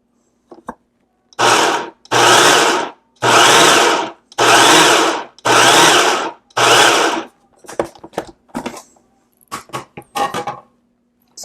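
A food processor pulses a kebab mixture with egg in six loud, evenly spaced whirring bursts, followed by shorter, choppier spins and scraping clatter.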